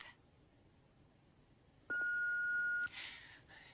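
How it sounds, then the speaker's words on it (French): A single steady electronic beep sounds for about a second over faint room noise, followed by a brief rustle. "Si vous voulez laisser un message, faites-le après le bip."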